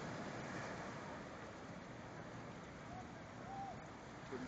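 Ocean surf rolls at Leblon Beach in Rio de Janeiro, a constant broad wash of breaking waves heard from the shore with faint wind, alone and without clear talk.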